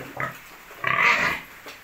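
A pregnant Yorkshire sow grunts close by in a piggery pen, a short low grunt followed by a louder, drawn-out nasal snort-squeal, then a faint trailing grunt.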